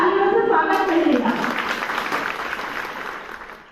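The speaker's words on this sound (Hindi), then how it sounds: "सभी अपने तालियों से स्वागत करिएगा।" An audience at a public event claps to welcome guests, a burst of applause following a voice, swelling briefly and then slowly fading out.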